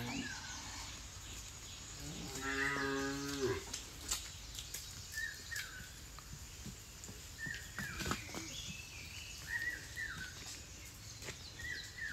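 Bullocks taken out for the first ploughing of the season moo once in a deep, drawn-out call near the start, with birds chirping faintly in the open farm air afterward.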